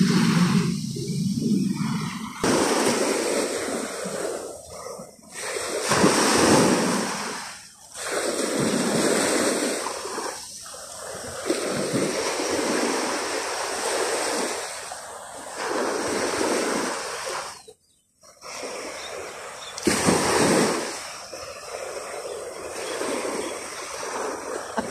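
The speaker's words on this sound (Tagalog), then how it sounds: "Kalmado lang ang alon." Gentle ocean waves wash in and recede in a steady, rolling rhythm, with soft breaks and a light hiss of surf and wind.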